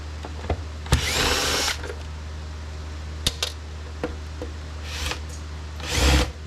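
A power drill pulls screws out of the case of a Yamaha digital drum kit, whirring in a short sustained run and then in later brief bursts, with sharp clicks and knocks of handling in between.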